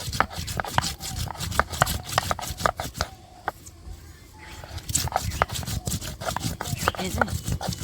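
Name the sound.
grinding garam masala spices by hand on a grinding stone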